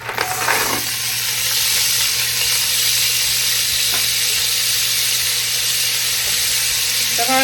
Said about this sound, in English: I'm going to add a little bit of oil to my pan. I'm going to saute my carrots.